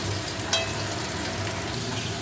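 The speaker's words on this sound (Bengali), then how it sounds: "মাছটা ফুটছে, এই জন্য এত আওয়াজ পাচ্ছে।" Pabda fish bubbles and fries in hot oil in a pan, a steady close sizzle that continues throughout with one brief sharp crackle near the start and no voices.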